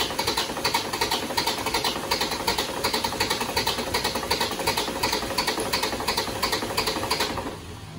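An Isuzu Panther diesel engine with a misadjusted injection pump timing grinds on its starter, a loud, rapid rhythmic chugging that stays steady for several seconds without catching, then drops off abruptly near the end.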